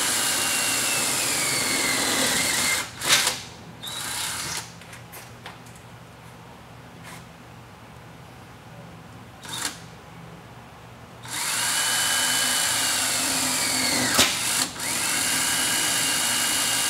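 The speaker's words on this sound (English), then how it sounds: "Drilled the two holes" A power drill bores holes for a rolling shutter installation, whirring loudly for about three seconds, then again for several seconds near the end, with scattered clicks and knocks in the quieter stretch between.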